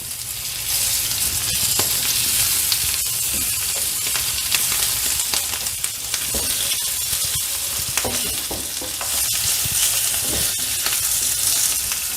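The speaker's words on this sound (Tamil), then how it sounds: "நம்ம அடிக்கடி வந்து திருப்பி திருப்பி போட்டு அதை ஃப்ரை பண்ணிகிட்டே இருக்கணுங்க" Bitter gourd fries in a pan with a loud, steady sizzle, and scattered scraping and clinking sounds as the pieces are stirred and turned.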